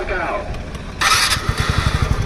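A TVS motorcycle with a newly fitted engine and a reported sound problem cranks and catches, then settles into a rapid, loud, rhythmic low thumping, with voices talking over it.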